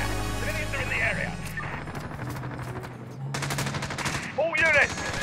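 Rapid automatic gunfire crackles in Call of Duty Modern Warfare, bursts of shots over radio chatter and shouting voices, loud and close with a steady low rumble underneath.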